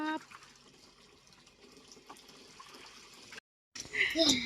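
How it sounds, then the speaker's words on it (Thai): Water runs into a bubble bath in a homestay bathroom, a soft steady pour under light background sound, broken by a brief silence before a louder, splashier burst with a voice near the end. "ตอนนี้ฟองขึ้นแล้วนะครับ เดี๋ยวเราจะอาบน้ำมีฟองกันครับ"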